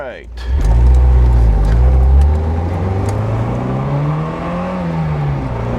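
A 1991 Alfa Romeo Spider engine revs hard to about 6,000 rpm up close. A loud rising roar holds for a second or two, then the engine drops back and settles into a lower, wavering idle.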